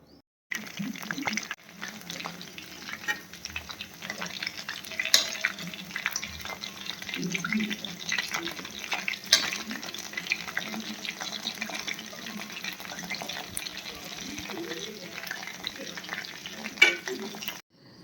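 Chicken legs frying in oil give a soft, even sizzle that runs for well over ten seconds, fairly quiet and close, with a few faint bumps and clatters along the way.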